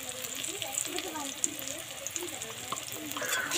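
Hilsa fish frying in a pan gives a close, even sizzle and crackle, with light stirring scrapes and a faint voice underneath.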